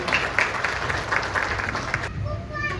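Applause from a church congregation at an Urdu-language fellowship service in Kuwait, a steady dense patter of many hands filling the room, with some talk over it before it cuts off.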